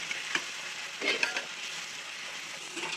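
Ginger and garlic sauté in oil for a chicken capsicum gravy, giving a low, steady sizzle broken by a few close spatula stirs and scrapes, with no talking.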